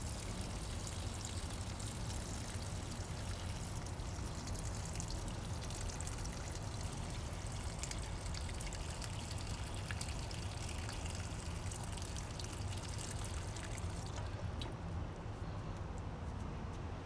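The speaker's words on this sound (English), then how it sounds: "Time to water." Water pours steadily from a simple watering can outdoors in the morning, a continuous close splashing trickle that runs unbroken before easing slightly near the end.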